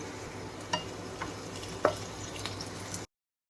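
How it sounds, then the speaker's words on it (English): Onion and green chili fry in a pan for paneer burji, a faint steady sizzle broken by a few soft stirring clicks, with no speech. "Once it's turned golden brown, add the onion. Stir it for some time."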